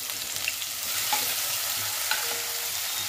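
Crushed garlic and ginger frying in hot oil with cumin and mustard seeds, a continuous close sizzle with faint clinks of the stirring spoon, no talk.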